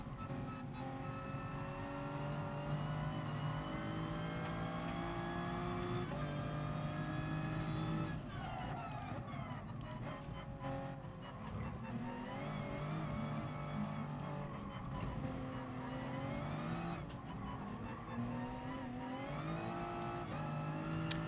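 A race car engine in Gran Turismo Sport drones steadily at high revs, rising and falling through gear shifts and throttle lifts, continuous and fairly quiet, with no talking.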